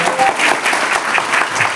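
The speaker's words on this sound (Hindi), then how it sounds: "तालियां बजा दो" Audience claps at a gathering, a short burst of dense applause with uneven, lively hand strikes, loud and close throughout.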